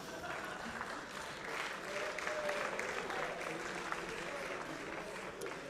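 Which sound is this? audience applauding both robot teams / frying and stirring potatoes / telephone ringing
audience applauding both robot teams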